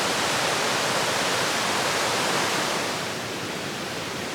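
A rough river at Cranbrook Flower Forest, Jamaica rushes with a dense, steady roar of churning water, loud and close, easing slightly toward the end.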